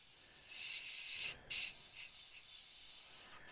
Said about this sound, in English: and then spray in towards the centre of the panel.